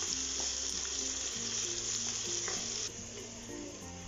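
Ginger garlic paste sizzles with onions in hot oil in a pan for a ghee chicken dish, a steady close frying hiss with light stirring and no talking.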